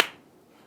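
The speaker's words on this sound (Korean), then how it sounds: "아 이거 박수 쳐야 되겠네요" A single sharp hand clap rings out once, close and crisp, and fades quickly into quiet room tone during a Korean political talk show.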